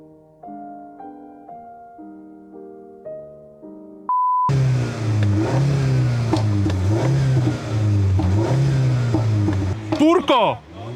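A Mini Cooper S in sport mode revs and accelerates loudly close by, its engine rising and falling with sharp exhaust pops near the end, while someone talks throughout.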